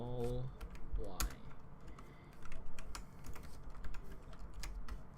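Computer keyboard typing while coding a Pong game, quick irregular key clicks close to the microphone, continuing in short bursts with a voice talking at the start.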